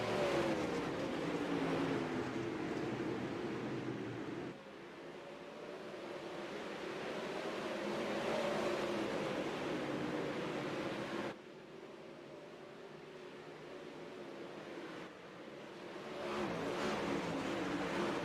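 Simulated iRacing race cars of about 800 horsepower roar together at a race start in a video game, a dense, steady engine drone with whirring, rising and dipping in waves as the pack gets under way.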